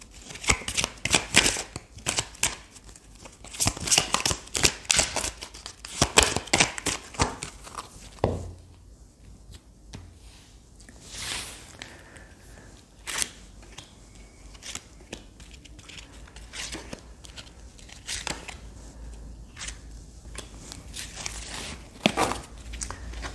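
Tarot cards are shuffled close by in rapid riffling bursts, then a quieter stretch of cards being slid, tapped and laid out, with soft scattered handling noise.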